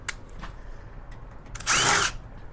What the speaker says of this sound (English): I got to take these screws out.